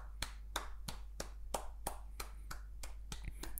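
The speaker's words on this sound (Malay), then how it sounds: "Jadi kalau saya tepuk tangan dekat sini," About a dozen hand claps at an even pace, made behind a cardioid microphone, sounding thin and somewhat distant over a low steady hum.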